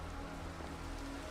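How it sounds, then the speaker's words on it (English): Steady rain in the video game Minecraft, a continuous soft patter of drops falling on the ground, heard alone at low volume with a low hum beneath it. "It's raining out there."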